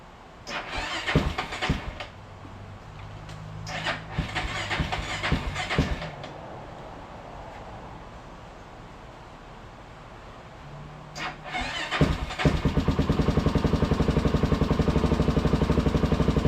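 A 2004 Honda TRX400EX ATV with a fresh head gasket cranks in repeated bursts of starter churning, pauses in between, then catches at the end into a loud, steady close-up idle.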